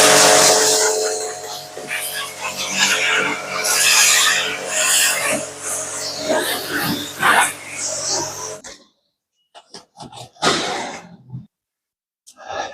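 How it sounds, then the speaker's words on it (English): A car wash jet sprays foam onto a car with a loud, continuous hissing blast for several seconds, then cuts off, leaving short bursts and quiet gaps. "I'm going to give it a spray down with some foam, and we'll see if this thing holds up"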